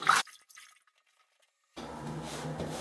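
Water runs from a tap while a person rinses off after shaving: a short splash at the start, then near-silence, then a steady flow that keeps going to the end.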